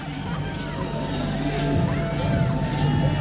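A large MMA arena crowd awaiting Bobby Lashley's entrance, a steady distant roar of murmuring and cheering with a few whoops, rising slightly in the second half.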